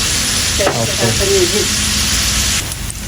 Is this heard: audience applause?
no